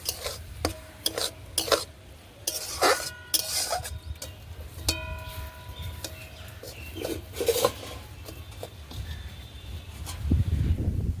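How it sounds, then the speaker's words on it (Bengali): Semolina paratha dough being stirred in a pan as milk is added bit by bit, giving repeated scraping and clattering of a spoon against the pan with some sizzling, moderately loud, with no talk. "অল্প অল্প করে দুধ দেব আর নাড়া দেব।"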